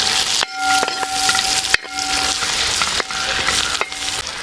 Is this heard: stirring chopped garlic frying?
yes